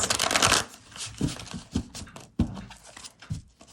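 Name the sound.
shuffling tarot cards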